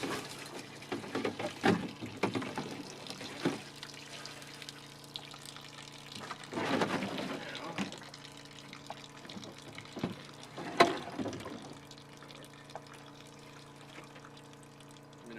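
Water runs through the transfer hose of a utility pump with a 2-inch adapter, giving a steady gushing flow with a few louder splashing surges.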